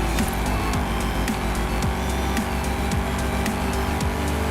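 A car accelerates at full throttle in the Forza Horizon 5 video game, its engine holding a loud, steady roar with repeated rising gear-change sweeps and occasional sharp clicks.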